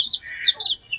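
Young chicks chirping in quick, high, overlapping peeps, close and fairly clear over a quiet background.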